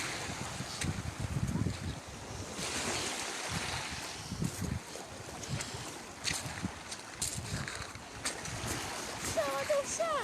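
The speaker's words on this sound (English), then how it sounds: "therapeutic to hear the lapping of the waves" Small waves lap at the shore on the Southend seafront, a soft continuous wash with brief splashes, mixed with wind noise buffeting the microphone throughout.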